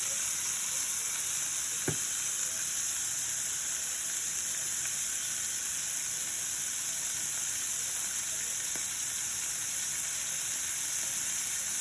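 Pork frying in oil in a pan, a steady dense sizzle and hiss that runs unbroken throughout, with a couple of faint knocks, no voices.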